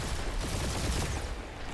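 Gunfire in Marvel's Guardians of the Galaxy, a steady dense fusillade of shots with rumbling low effects, continuous and fairly loud for the whole stretch with no talk over it.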